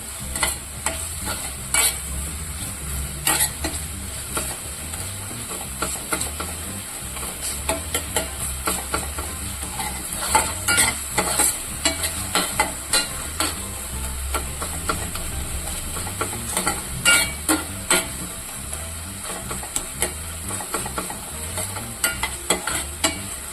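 Tomatoes and garlic paste sauté in a pan with a steady, close sizzle and hiss, broken by repeated scraping stirs of a spoon throughout, with no talking.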